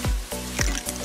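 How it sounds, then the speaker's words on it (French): Eggs being cracked into a dish for a panko-breaded fish recipe, two close wet cracks and squishes with dripping in between, no talk. "Je casse mes œufs."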